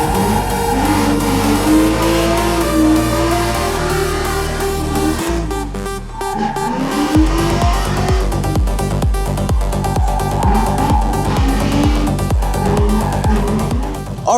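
A drift car's engine at Thunder Valley Drift Park revs hard and continuously, rising and falling in pitch, then stutters in fast rhythmic pulses against the rev limiter.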